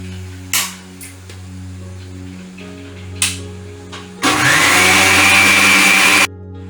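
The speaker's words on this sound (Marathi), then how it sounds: "आता आपण मिक्सी लावून घेऊया." A mixer grinder blends red lentil masala into paste. After a few short taps and a hum, it starts with a loud, steady whirring roar that runs for about two seconds and then cuts off abruptly.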